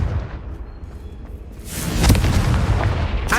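A Confringo fire-blast spell from the Hogwarts Legacy video game, set in Fastidio's dungeon, erupts as a loud, booming explosion that swells midway and rumbles on with crackling bursts, a second sharp burst near the end.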